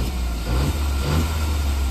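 A car engine runs loud and steady close by, a low rumble rising slightly as if revved ahead of a street drag race, with no talking over it.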